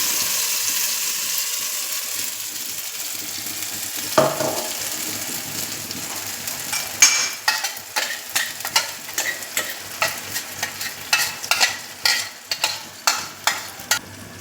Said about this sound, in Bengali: এবার কড়াইতে কিছুটা তেল দেব, দিয়ে পুরটাকে রেডি করব।